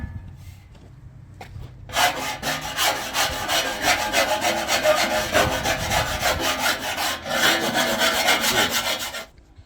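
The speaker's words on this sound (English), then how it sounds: "Using some files, I was able to shave this pretty good" Hand files shaving a winch fairlead opening in the OEM bumper of a Land Cruiser FZJ80, a steady scraping rasp of repeated strokes starting after a short pause and running continuously, close and loud, with no talking.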